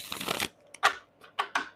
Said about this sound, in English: Spirit wants me to shuffle this deck.